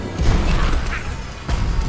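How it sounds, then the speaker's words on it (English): A fireball spell slams into an enemy in the video game Magicka: a dense, crackling burst of noise that rumbles steadily and then flares into a sharper impact near the end. "Shoot a fireball at that one."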